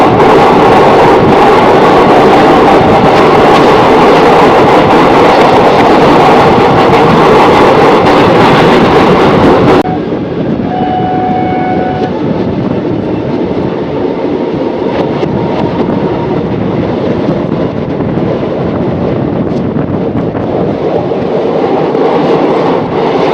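A passenger train runs on rails on a long-distance journey to Chandigarh, with a loud, steady rumble and rattle that drops abruptly in level partway through, then continues as a softer, even roar with no voices.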